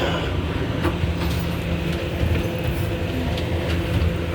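An R211A subway car on the A line in New York City rumbles steadily at close range, with a continuous low roar and scattered clicks and rattles from the wheels and car body.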